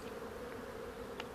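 Honeybees leave the hives of an apiary in November in large flights, making a steady close buzzing drone with a few brighter individual passes on top of it, and no voices.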